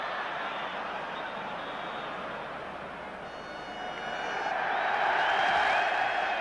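A football stadium crowd at the 1966 World Cup final between England and West Germany makes a broad, distant roar. It swells louder toward the end as the cheering rises.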